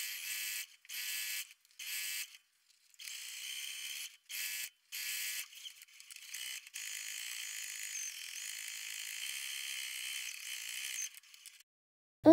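A sewing machine topstitches close to the edge of a jacket lining at a 3.5 mm stitch length. Several short, clicking mechanical bursts give way to one longer continuous run, quiet and close, with no voices.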